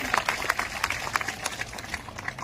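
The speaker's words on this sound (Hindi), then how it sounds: "कविता जी, जोरदार ताली बजा के स्वागत" A crowd at a political rally in Rajgir, Nalanda, Bihar claps to welcome a ward councillor, the scattered hand claps quick and uneven, sounding moderately close.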